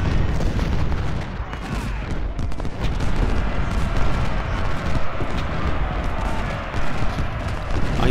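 Cannon and artillery fire in the Civil War strategy game Ultimate General: Civil War, at the Battle of Fredericksburg: dense, continuous rumbling booms and crackling volleys layered over one another with no pauses, loud and sustained throughout.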